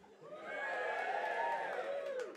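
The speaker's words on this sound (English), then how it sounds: "Wasn't expecting to cheer quite that loud" An audience at a comedy club gig lets out a faint, drawn-out whooping cheer that swells and holds for about two seconds before trailing off.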